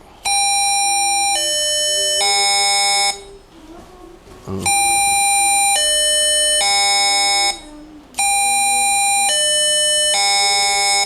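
A robot's electronic buzzer, sounding a flame-sensor alarm, alternates between two pitches in a siren-like wail, repeating three times with brief pauses between.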